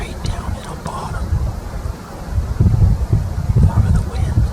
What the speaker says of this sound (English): It's really windy in most places today.